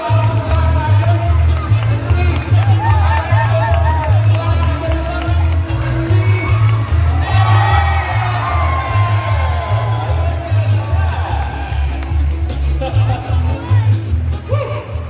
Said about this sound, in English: Everybody, from this side, can we all cheer for Michael? Come on! The louder the better